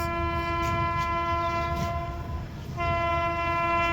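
The Gwalior–Kolkata Superfast Express rumbles along the rails with a steady, sustained horn tone held over the low clatter, briefly dipping before resuming loud and close.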